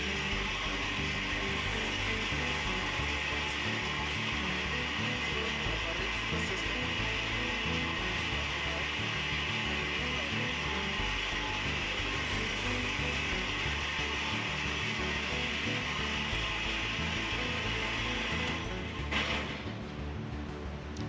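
Machine belt-driven by a three-phase motor running on a single-phase supply, giving a steady, loud, continuous mechanical hum and whir that holds unchanged for about nineteen seconds before a brief shift near the end.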